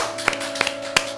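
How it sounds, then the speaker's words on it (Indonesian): Three or four sparse, separate hand claps, fairly close, over a low steady hum in a casual indoor setting. "Oke, tepuk tangan dulu."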